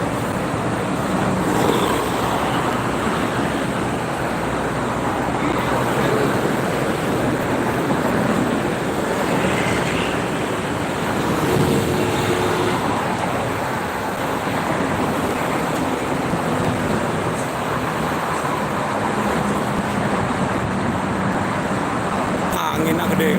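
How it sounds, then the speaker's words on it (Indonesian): Strong wind buffets a car on a busy toll road heading toward Jakarta at night, making a steady, loud rushing roar mixed with road noise, and no one speaks. "Anginnya gede."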